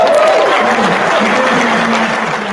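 Loud, close applause from an audience, continuous dense clapping with a voice carrying over it and holding strong for a couple of seconds.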